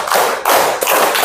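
Children in a group clapping game strike their hands together in loud, close bursts, roughly three even, rhythmic claps.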